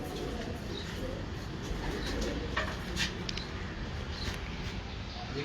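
Breeder pigeons coo in a low, continuous murmur throughout, steady and fairly close, with a few faint higher chirps scattered over the dense cooing.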